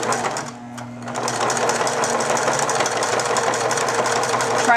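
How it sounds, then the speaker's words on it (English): A sewing machine stitches fabric for a reusable snack bag, a rapid steady mechanical whir close by after a brief pause at the start, running continuously to the end. "you of course need a sewing machine and whatever color thread that you want from your local fabric store"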